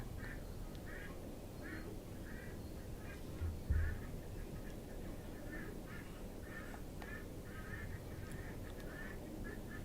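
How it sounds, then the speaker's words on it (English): Ducks quack repeatedly from a distance in a home setting, with faint, evenly spaced calls over a steady background hum. "Probably the duck's going crazy."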